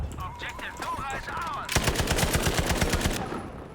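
Type 11 LMG light machine gun in Battlefield V opens up with a rapid, loud burst of evenly spaced shots lasting about a second and a half, after a stretch of talking voices and faint distant gunfire.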